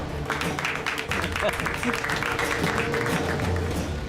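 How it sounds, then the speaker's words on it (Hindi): A crowd claps steadily in a dense, continuous patter of hands, with voices talking over the applause throughout. "अरे अब तो ताली बजाओ।"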